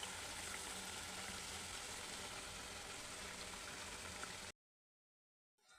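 Karis, thick homemade tea-time snacks, deep-fry in hot oil with a dense, even bubbling hiss like rain that runs for several seconds and then cuts to silence.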